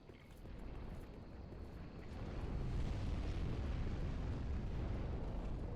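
A dragon in Dark Souls 3 breathes fire at Lothric Castle, a continuous rumbling roar of flame that swells louder midway and keeps going.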